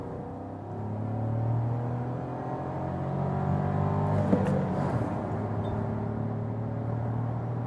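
An Audi SUV accelerating hard from 50 to 100 km/h, a steady engine drone rising and building across the whole stretch, with a short click or thump midway and no talk.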